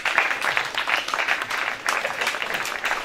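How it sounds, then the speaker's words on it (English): Applause for teachers and staff at a school swearing-in and handover ceremony, a brief burst of steady clapping from a gathered crowd with no voices over it. "can we really clap for our teachers and the entire staff?"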